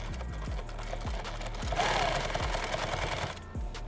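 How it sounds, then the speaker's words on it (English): A sewing machine stitches a 6-inch strip of webbing onto a Thermacell pouch, a steady close whirring run with regular low thumps from the needle, louder in the middle and easing off near the end. "And I'm going to sew it right in, right here."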